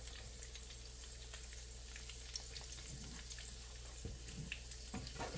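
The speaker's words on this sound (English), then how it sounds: "So we are cooking, guys, the omelette, bean sprout omelette" A bean sprout and shrimp omelette fries in a pan with a faint, steady sizzle and scattered soft crackles throughout, close but quiet.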